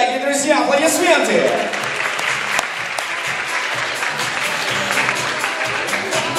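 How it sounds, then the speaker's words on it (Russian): Loud crowd applause at a talent contest swells after a brief announcing voice and music sting, then continues as steady clapping to the end. "Изабель Йен, дорогие друзья, аплодисменты!"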